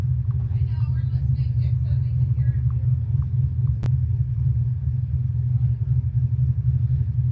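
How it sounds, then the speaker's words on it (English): A 1970s muscle car engine idles with a thick, throaty rumble that runs unbroken throughout, while a faint voice briefly rises above it near the start. "I think it's like a Trans Am or a Pontiac Firebird. 70s. Could be a Camaro."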